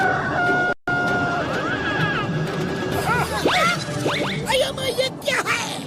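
A cartoon sea rooster crows in an undersea world to wake the sea creatures, with a series of sweeping, swooping calls laid over a busy musical background.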